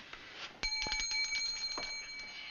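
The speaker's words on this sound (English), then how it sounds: "Ring the bell, Andy." A small hand bell is struck once with a bright metallic ring that lingers and slowly decays, preceded by faint rustling and a soft knock, in a quiet room with no talking.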